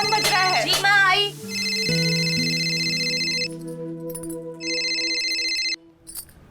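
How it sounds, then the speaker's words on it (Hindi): A telephone ringtone plays in a Hindi crime drama scene, a repeating electronic melody in two clear bursts with a short gap between, loud and close, with the room otherwise quiet and no one speaking over it. "तेरा फोन बज रहा है।"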